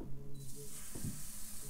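Egg-soaked paratha laid into a wok of hot oil gives a steady close sizzle and hiss, with a soft burst of spattering partway through.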